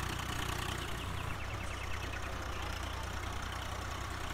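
Swaraj 855 tractor engine in Farming Simulator 19, running steadily with a low, continuous idling drone and a faint higher hum, holding an even level throughout with no talk.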